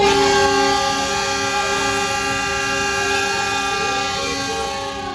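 The Cikuray train rumbles loudly nearby as it departs Garut station, while a long, steady horn blast sounds over it, fading slightly as the train pulls away.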